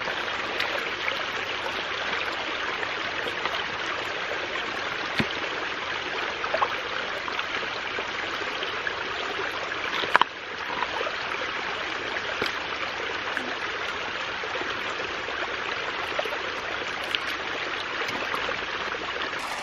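Creek water flowing over rocks near a small rock dam and water intake, a steady close rushing and trickling wash that stays even throughout with one brief knock.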